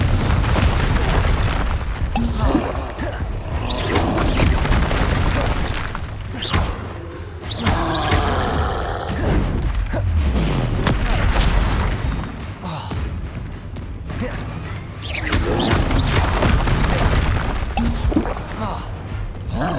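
Confringo fire spell explosions in Hogwarts Legacy combat: repeated booming blasts and thuds, loud and close, mixed with dense battle noise and a voice shouting spell names over them.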